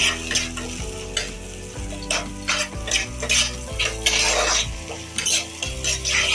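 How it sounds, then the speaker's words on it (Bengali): Garlic and tomato paste masala fries and is stirred in a pan on low flame for a masala eggplant dish, with steady sizzling under repeated scraping and clinks of a metal utensil against the pan. "এটা লো ফ্লেমে ভাজতে থাকতে হবে"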